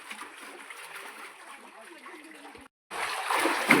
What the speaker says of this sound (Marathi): फक्त उड्या मारतोय पाण्यात.